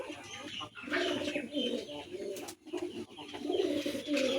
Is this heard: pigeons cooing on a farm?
yes